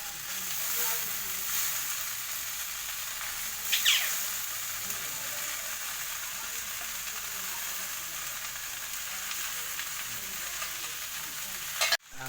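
Noodles stir-fried in a pan for chowmein give a continuous, fairly quiet sizzle. A brief scrape sounds near the four-second mark, and a sharp knock comes right at the end.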